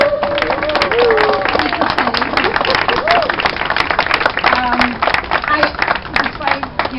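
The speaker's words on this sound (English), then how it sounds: "maybe if we could have a round of applause for her" An audience claps in a sustained round of applause for a woman receiving best wishes, dense and steady throughout, with crowd babble and some voices mixed in.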